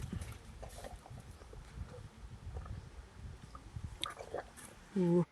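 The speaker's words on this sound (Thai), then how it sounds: "เสียงเคี้ยว" An animal chews banana and apple pieces with soft, wet, steady munching close by, followed by a brief louder burst near the end.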